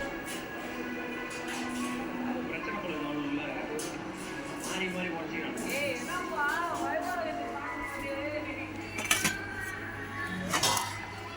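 Dishes and cutlery clink as plates are brought out and set down for a rock-fish curry meal, with scattered sharp clinks and a couple of louder knocks near the end over a steady background and distant voices.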